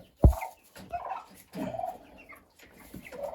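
A Wyandotte hen sitting on eggs clucks in short, low bursts with pauses between, close by, with a sharp knock at the start.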